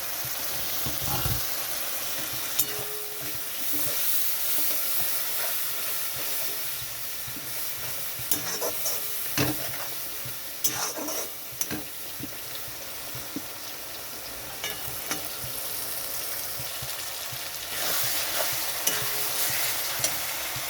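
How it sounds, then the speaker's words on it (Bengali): Spiced masala for chicken malai curry braising in a pan with a splash of water, a steady wet sizzle and hiss broken by repeated scraping stirs of a spoon. "এখানে একটু জল দিয়ে দিচ্ছি মশলাটা কষানোর জন্য।"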